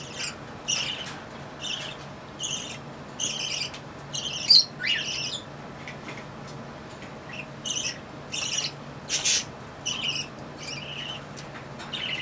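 Pet birds squawk and chirp in repeated shrill bursts with short pauses between them, fairly close and with no talking.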